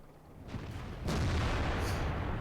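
Artillery fire booms in the World of Tanks video game, two deep blasts, the second louder and sustained with a rumbling tail, amid continuous battle noise.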